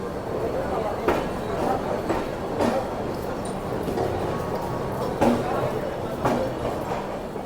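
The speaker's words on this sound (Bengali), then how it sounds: "একদম রাইট টাইমে সাতটা পনেরোয় কিন্তু আমাদের ট্রেন ছেড়ে দিল হাওড়া স্টেশন থেকে" The Howrah–Amritsar Mail pulls out of Howrah station, giving off a steady rolling rumble with rhythmic clacks of wheels over rail joints every second or so, heard from on board, with faint voices around.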